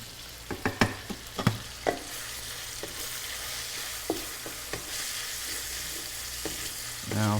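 Butter noodles frying in oil in a wok, stirred with a utensil that gives a run of sharp scraping knocks early on, then sparser clacks over a steady sizzle, with no speech.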